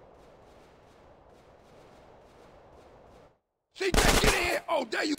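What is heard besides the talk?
gunfire in a shootout, from the video game GTA San Andreas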